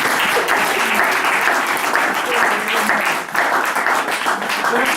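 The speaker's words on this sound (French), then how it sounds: "Est-ce qu'on peut acclamer le Seigneur?" A church congregation claps and applauds continuously, a dense, loud wash of hands with crowd noise beneath, steady from start to finish.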